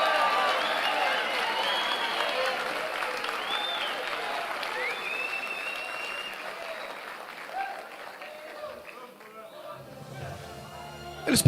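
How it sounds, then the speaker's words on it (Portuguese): A church congregation applauds loudly during a sermon, sustained clapping and crowd noise with some cheering and whoops that gradually die down, then a voice and a sudden loud sound at the end. "Você pode aplaudir Jesus bem forte."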